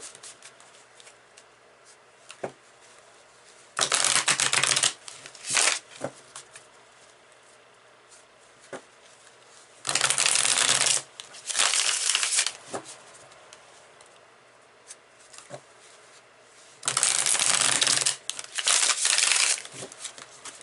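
Tarot cards shuffled in three separate bursts of brisk riffling, each a couple of seconds long, with quiet gaps of light handling and small taps between them.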